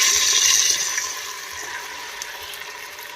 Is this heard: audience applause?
no